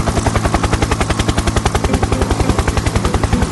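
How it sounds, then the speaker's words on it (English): Loud, rapid rhythmic chopping of helicopter rotor blades, steady and continuous throughout, close by. "Helicopters go straight up, like a flying elevator."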